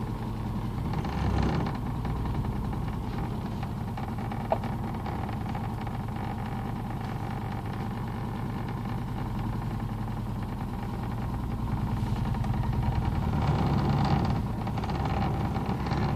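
A 944 car engine running rough after sitting unused for ten years: a steady, close, low rumbling idle that continues for the whole stretch, with some wind buffeting and no talking.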